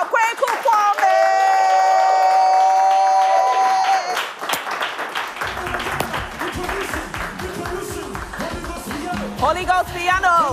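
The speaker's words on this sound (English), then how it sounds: "if you're ready, with a big round of applause" An audience at a gospel event claps and cheers to welcome a performer onstage, with applause and whoops rising over a sustained musical tone, then a loud crowd and music continuing as a voice calls out.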